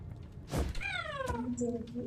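A cat gives one clear, drawn-out meow close by, falling in pitch, just after a soft thump.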